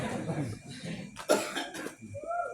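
A single sharp cough from a man in the audience at a humorous Sundanese sermon, a brief burst set among faint murmuring talk.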